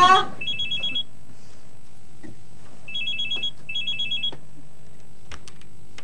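An old telephone rings in short electronic trills inside a house in the sitcom Bajaj Bajuri, two separate bursts spaced a couple of seconds apart, with faint room noise and brief knocks in between.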